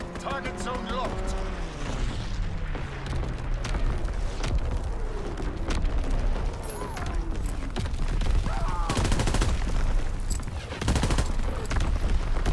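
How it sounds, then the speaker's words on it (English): Gunfire during a fighter plane strafing run in Call of Duty: WWII: rapid bursts of shots and booming impacts over a rumbling battle, with a voice speaking over parts of it. "Fighter pilot inbound, strafing the target."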